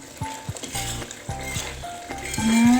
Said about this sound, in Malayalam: അപ്പോൾ ഇതാ തിളച്ചിട്ട് നന്നായി കുറുകി വരുന്നുണ്ട് കേട്ടോ.